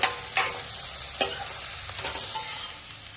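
Cabbage tossed with onion and capsicum in a hot pan for veg manchurian, giving a continuous close sizzle broken by a few distinct spatula scrapes, early and around the middle, with no voices.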